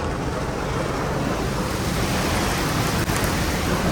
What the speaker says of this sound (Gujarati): જોરદાર વરસાદ ચાલુ છે.